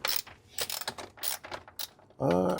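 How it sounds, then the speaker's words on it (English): A ratchet driving a 10mm socket to tighten a bolt on a Tesla Model 3/Y, heard as a series of short, close ratcheting clicks in bursts, ending in a louder buzzing mechanical whir. "I'm gonna put my 10mm socket back in here, and I'm going to basically just tighten this back now."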